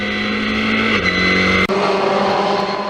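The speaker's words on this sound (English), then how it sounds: "Through Brooklands goes White. And right into Luffield." A historic Formula Ford 2000 single-seater at Silverstone runs loud and close, its engine note dropping and shifting as it brakes and changes gear through a corner.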